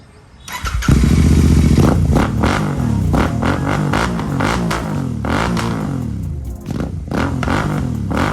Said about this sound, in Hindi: कालू भाई साउंड सुनना है बाइक का?